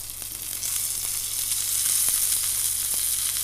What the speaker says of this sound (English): Another little sear on its skin.